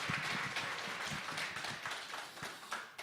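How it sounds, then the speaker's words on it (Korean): An audience at a church forum claps to welcome the speakers, a faint, steady patter of many hands with no break. "우리 포럼 하실 때 큰 박수로 환영해 주시기 바랍니다"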